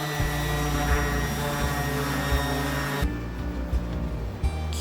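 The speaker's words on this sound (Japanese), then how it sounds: "180番のペーパーをつけたランダムアクションサンダーで仕上げました。" A random orbital sander with 180-grit paper finishes a planed wooden mask rack, a steady motor whine with rhythmic thumps as it moves across the board, easing off partway through.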